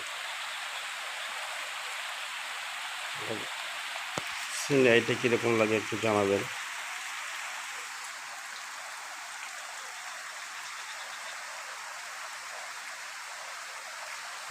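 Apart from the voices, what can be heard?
heavy pouring rain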